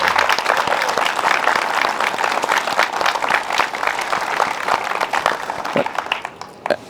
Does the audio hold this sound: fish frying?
no